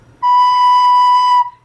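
A recorder sounds one steady, clear note produced with slow, warm air, smooth and evenly sustained for over a second, close and alone.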